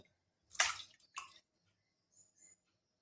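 Two short splashy bursts of water poured over hands, close by, followed by a few faint drips in quiet.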